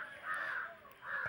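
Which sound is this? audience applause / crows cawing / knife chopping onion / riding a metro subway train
crows cawing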